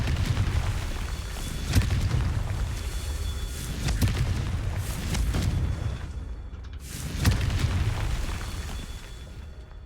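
Confringo fire spell explosions in the video game Hogwarts Legacy, a dense rumbling boom at the start followed by two more sharp blasts with crackling decay over continuous low game noise.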